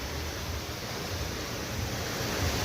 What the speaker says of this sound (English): when I passed by this fountain, at first, I didn't exactly know what was going on here with the water that's being projected